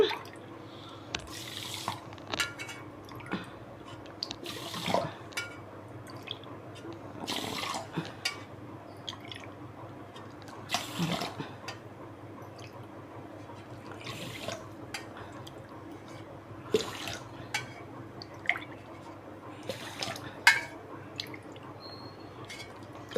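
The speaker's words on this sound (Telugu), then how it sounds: "గ్లాసుకి నాలుగు గ్లాసులు వాటర్ వేసుకోవాలి" Water poured over millets in a kitchen for cooking, with scattered drips and splashes falling at irregular intervals over a low steady background, moderately quiet and close.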